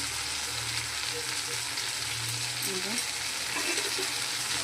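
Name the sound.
boiled mung dal poured into sizzling masala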